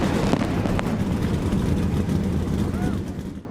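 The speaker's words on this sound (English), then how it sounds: "Drivers, start your engines!" NASCAR Cup Series race car engines fire up at Phoenix Raceway for the 2021 championship race, a dense sustained roar of many engines heard from a distance, steady and loud throughout.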